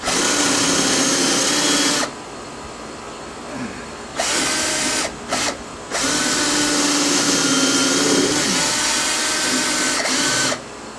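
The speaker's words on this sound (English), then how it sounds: "So, we've drilled all the holes." A power drill fitted with a paddle bit bores holes in the transom of a Sea Ray boat, whining loudly in several sustained bursts separated by short quiet gaps and brief stops.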